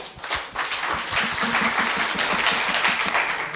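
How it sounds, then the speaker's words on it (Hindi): An audience at an indoor session claps steadily for a few seconds, a dense, loud patter of many hands that holds fairly even from start to finish. "तो आपके लिए एक बार जोरदार ताली होनी चाहिए।"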